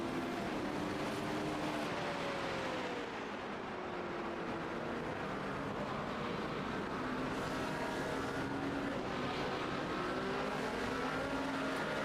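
Race cars and an LMP2 prototype pull out of pit lane in an endurance sim racing event, engine tones rising and shifting in a dense, continuous roar of several cars at once.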